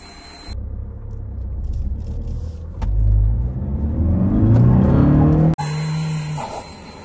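A Mahindra XUV700 AX7 and a 2022 Tata Safari XZ Gold Plus SUV in a rolling-start drag race, engines droning loudly and rising steadily in pitch as they accelerate together, then cutting off abruptly before a steady idle-like hum resumes.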